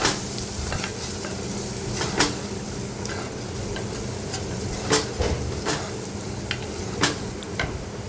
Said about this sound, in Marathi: आता हे वाटण आपण व्यवस्थित परतून घेऊया तेलामध्ये